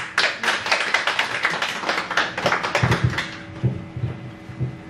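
Audience applause welcoming a literary critic at a poetry book talk and signing event, a burst of clapping that thins into a few scattered claps before fading.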